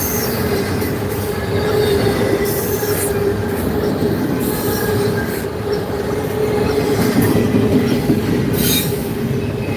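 A BNSF freight train on a reroute rolls past on the rails at night in Millbury, Ohio: a steady, loud, close rumble with wheel squeal and rail clatter throughout, no voices.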